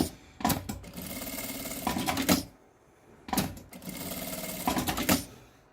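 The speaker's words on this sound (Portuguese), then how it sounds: "eu vou passar uma costurinha do lado de cá e do lado de cá" Sewing machine stitching a folded fabric strip for a child's small case, two runs of fast steady whirring stitches about two seconds each, close and clear, separated by a short pause.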